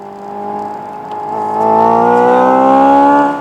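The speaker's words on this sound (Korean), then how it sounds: "NGB 모드 사용 시에 엔액티브 사운드가 활성화되어 있다면 부스트 동작 시 소리도 훨씬 커져요" A Hyundai Ioniq 5 N synthetic engine tone swells upward in N Grin Boost mode, layered whining harmonics rising in pitch and growing louder as the boost kicks in, then holding steady.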